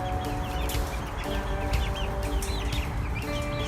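Several chickens, likely including two roosters, cluck continuously in a cage, close and fairly loud, over a dense background hum.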